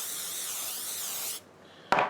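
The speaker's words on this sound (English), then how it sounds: "I'm going to spray it." An aerosol can sprays cooking spray while corned beef is being prepared, a loud, close, continuous hiss lasting over a second, then a pause and a short sharp knock or clatter.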